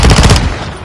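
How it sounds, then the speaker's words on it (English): A hostile sentry gun in Call of Duty Modern Warfare 2 fires a short, loud, close burst of rapid shots that cuts off abruptly and leaves a fading echo. "Hostile sentry is active."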